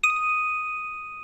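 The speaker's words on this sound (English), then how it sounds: "bell sound." A synthesized bell programmed in Studio One, part of recreating a familiar sound, strikes once and rings on with a bright, steady tone that slowly fades over about a second.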